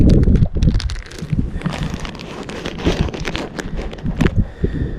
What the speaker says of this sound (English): I apologize for the wind, it's getting kind of windy.